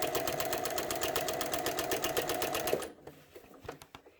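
A sewing machine fitted with a walking foot stitches through quilting fabric in a steady rapid chatter for almost three seconds, then stops, leaving a few faint clicks and handling sounds.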